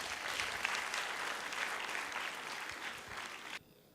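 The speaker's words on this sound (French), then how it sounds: "Léandre, qu'on applaudit très fort, s'il vous plaît." Studio audience applauding loudly for a contestant named Léandre at the Star Kids Afrique Francophone semi-final, a dense steady wash of clapping that cuts off sharply near the end.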